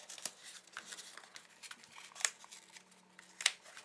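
Scored card stock being folded into tabs for a Mother's Day gift card and candy holder gives soft, close papery creasing and rustling, with two sharper crisp crackles partway through and no talking.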